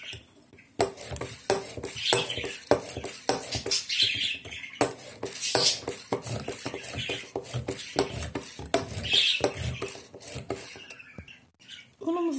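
A utensil stirs spinach cake batter in a bowl, with rhythmic clinks and scrapes against the side. The strokes come repeatedly and close up for several seconds, with brief pauses between bursts.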